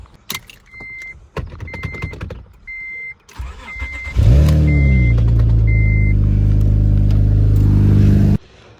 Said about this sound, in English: But now it's time to start it up and see if everything works.